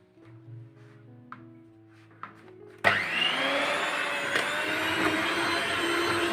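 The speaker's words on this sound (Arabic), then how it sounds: "اشغل المضرب." Electric hand mixer beating ghee into kahk cookie dough switches on abruptly after quiet kitchen sounds, then runs as a loud, steady whirring drone with a faintly shifting pitch.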